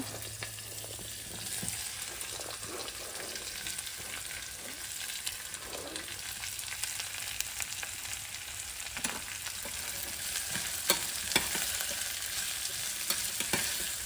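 Green chili and onion fry in hot oil with a steady, close sizzle and an occasional stirring scrape, no voices.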